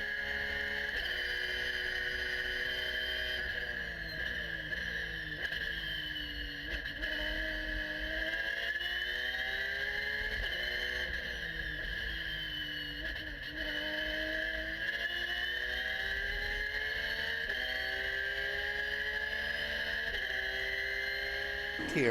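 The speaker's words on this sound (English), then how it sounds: "with all those cars on track and spectacular racing here" Race cars lapping the track at Sebring give a continuous, loud engine roar whose pitch climbs and falls as cars accelerate and brake, with several machines overlapping throughout.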